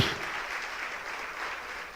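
A church congregation applauds during a sermon, a soft, even patter of many hands heard from a distance for a couple of seconds.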